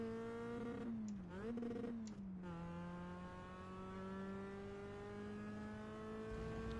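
Mazda Cup race car engine in iRacing at Laguna Seca, revving sharply up and down as the driver blips the throttle on downshifts, then a steady droning engine tone held under acceleration; no talk.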